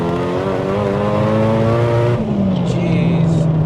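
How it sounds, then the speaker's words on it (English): Nissan Silvia S15 with a built 2.1L stroker engine, loud and close, revving hard with steady harmonic engine tones that drop in pitch partway through as it shifts or eases off, then climb again. "This is rated as one of the best sounding engines"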